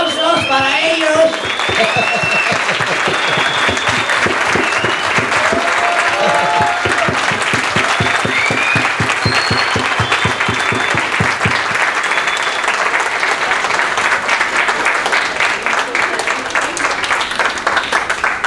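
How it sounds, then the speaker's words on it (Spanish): A live audience at a music event at Mexico's Fonoteca Nacional breaks into loud, sustained applause with dense clapping and a few cheers, after a voice introduces the moment, slowly thinning out toward the end. "¡Aplausos para ellos!"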